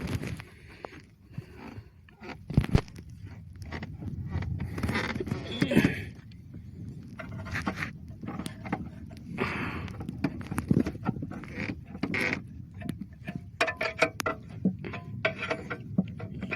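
Small fishing boat at sea with a boat engine being lifted and mounted, giving irregular knocks, thumps and scraping clatter, close and moderately loud over steady background noise.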